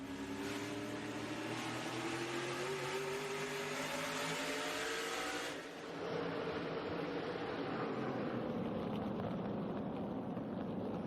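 Ryan Newman's SRX race car engine roars steadily at close range from onboard during a race at Stafford Speedway, a sustained loud drone with shifting harmonic pitch that dips briefly midway before resuming at full volume.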